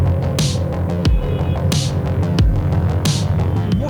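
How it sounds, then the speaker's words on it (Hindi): A TVS Raider 125 motorcycle engine runs with a deep, throbbing hum and a rhythmic pulse, heard up close and fairly loud. "साउंड तो मतलब इंजन का मुझे कमाल लगा।"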